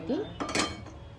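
A metal wok clanks down onto a gas stovetop with a brief rattling scrape.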